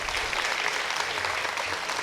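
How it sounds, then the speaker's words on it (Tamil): Steady applause from an audience at a Christmas celebration event held by a Christian goodwill movement in Tiruchirappalli, dense and continuous clapping filling the whole moment without pause. "அவரோடு நல்லா கைத்தட்டோம்."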